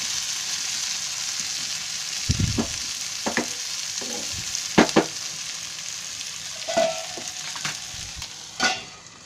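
Tomato and onion cook in a covered pan, giving a steady low sizzle with a few scattered clinks and knocks from the pan and lid.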